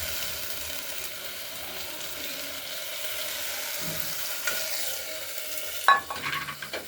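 Washed raw mung dal being stirred and dry-roasted in a pressure cooker, giving a steady soft sizzle and scraping that runs throughout, with a few louder clatters of the spoon near the end.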